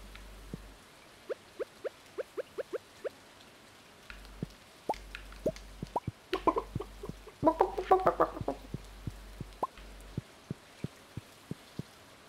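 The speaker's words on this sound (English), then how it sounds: "Chickens! Look at the chickens." Chickens in Stardew Valley cluck in short, quiet clipped game sounds, spaced and repeated, bunching into a faster flurry of clucks in the middle before thinning out again.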